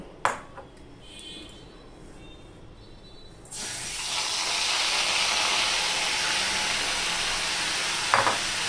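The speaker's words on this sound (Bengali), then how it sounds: "এবারে মাছগুলো আমি ভেজে নেব।" Singhi fish dropped into hot mustard oil seasoned with salt and turmeric in a kadai, a sudden loud hiss and sizzle that holds steady after a quiet start with a few clinks.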